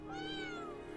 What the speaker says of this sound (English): Catherine the kitty cat